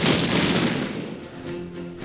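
A sharp burst of rifle and machine-gun fire crackles out in a World War II tactics game set in the 1940 invasion of France, then fades into a low rumbling tail within about two seconds.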